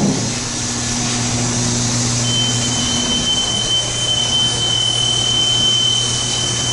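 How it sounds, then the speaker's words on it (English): A 1966 Otis hydraulic freight elevator motor runs with a steady, loud mechanical hum and whine, joined partway through by a thin high-pitched tone, continuous and close with no voices. "now I want to listen to this motor"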